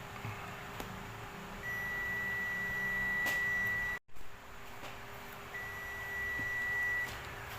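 Two steady high-pitched electronic beeps from a multimeter on continuity setting, testing power amplifier transistors, each lasting about two seconds, separated by a pause, over a low background hum.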